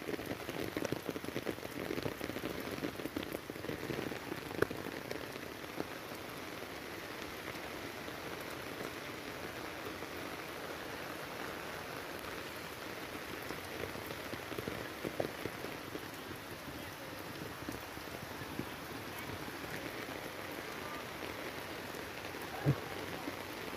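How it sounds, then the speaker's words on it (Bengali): Heavy rain falling steadily during flooding in Noakhali, Bangladesh, a dense continuous hiss of drops on surfaces, moderately distant and unbroken, with no voices. "অনেক বৃষ্টি হইতেছে।"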